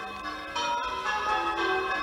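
Recorded church bells from a Cotswolds church are played back at a wedding in Kent, their tones ringing and overlapping at a moderate level.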